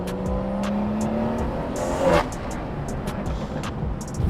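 A BMW with a B58 engine and a straight-piped exhaust, with the middle muffler removed and only the rear muffler left, drones loudly and steadily, then gives a brief sharp rev midway.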